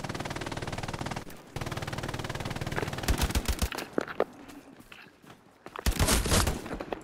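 A grease gun fires in a video game, delivering several rapid bursts of close, loud automatic fire separated by brief pauses, with another heavy burst near the end.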